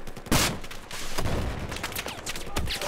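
Dense gunfire from the Battlefield 4 multiplayer shooter, with a sharp loud burst near the start, then continuous overlapping shots and rattling fire through the rest, no voices.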